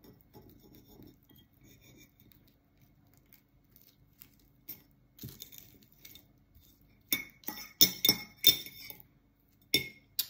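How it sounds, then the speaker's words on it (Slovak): A small knife slicing food and clinking against a dish, faint at first, then a run of sharp, close metallic taps and scrapes that grow louder, with quiet handling noise between them. "mám tu nožík a môžem to krájať"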